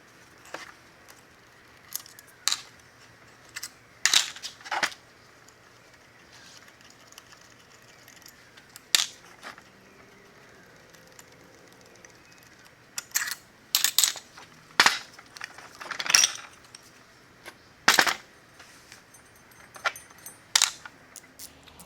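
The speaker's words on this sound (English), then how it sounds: "I'll go ahead and pull the compressor cover off in the turbine housing" Metal parts clink and tap as a Maxpeeding GT30 turbocharger is taken apart and its compressor cover is pulled off the turbine housing, a scattered series of sharp, close clicks and rattles over a quiet background.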